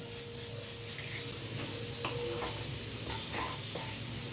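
Jackfruit and prawn curry with half a teaspoon of garam masala is stirred in a pan, giving a soft steady sizzle with a few light spoon scrapes and clicks. No one speaks.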